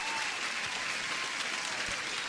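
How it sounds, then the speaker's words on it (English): Recorded applause played out during a live futures day-trading stream: continuous, dense clapping from a crowd, steady and moderately loud for its full length. "Let me give an applause to everyone"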